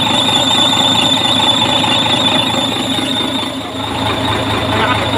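A repaired air conditioning compressor runs on a Shacman truck, giving a loud continuous whine with steady high-pitched squealing tones over a low mechanical hum.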